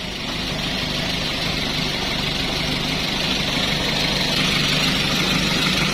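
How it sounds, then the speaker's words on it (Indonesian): A Daihatsu Gran Max pickup truck engine idles nearby in a steady, low rumble with an even hum, unchanging for several seconds and nothing else heard. "Mesin masih halus, enak."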